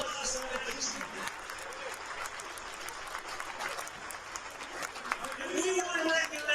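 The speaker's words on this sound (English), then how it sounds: "A big round of applause on that achievement." A ballpark crowd applauds steadily at a college baseball game between the Fort McMurray Giants and Okotoks Dawgs, a dense continuous wash of clapping throughout with murmuring voices mixed in, swelling slightly louder near the end.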